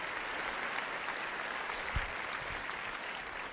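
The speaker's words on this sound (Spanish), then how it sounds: "Denle un aplauso al Señor" A church congregation claps steadily throughout, a dense, even wash of applause without pauses.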